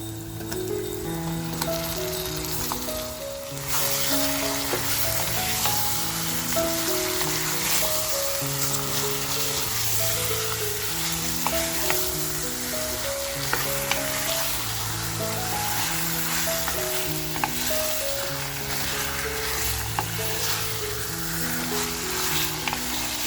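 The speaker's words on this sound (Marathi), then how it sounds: "मटण बघा जे मॅरिनेट करत ठेवलं होतं ते आता आपण तेलामध्ये छान असं फ्राय करून घेऊया।" Marinated mutton frying in hot oil gives a steady, bright sizzle with a few faint clinks, running under continuous background music for the whole stretch.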